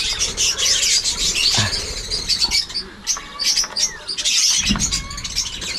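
Pet birds calling from inside their cage, a steady mix of bright chirps and tweets with occasional cooing, fairly loud and close throughout without any talk.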